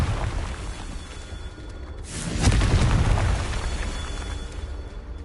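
A Confringo fire spell goes off in Hogwarts Legacy, a sudden booming blast about two seconds in that swells loud and rumbles for a second or so before fading into the quieter game ambience.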